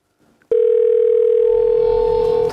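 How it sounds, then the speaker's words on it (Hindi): A telephone ring-back tone on an outgoing call starts abruptly and holds as one loud, steady tone to the end, with faint background noise underneath. "थैंक गॉड, रिंग हो रहा है।"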